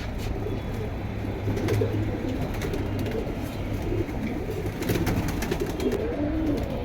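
Pigeons coo softly and repeatedly against a steady outdoor hum, with occasional faint chirps mixed in.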